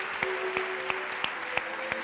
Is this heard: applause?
yes